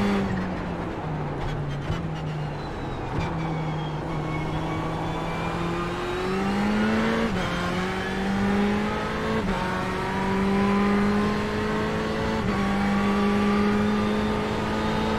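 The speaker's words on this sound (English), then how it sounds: "The Porsche certainly doesn't seem to suffer from that throttle oversteer coming out of corners." A Porsche race car in the iRacing simulator at Daytona, its engine holding a steady drone that rises through gears with brief shift dips, loud and continuous without speech.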